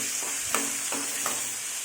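Tomato and garlic get stirred in a frying pan, with a soft steady sizzle underneath and three or four distinct scraping strokes of the spoon against the pan.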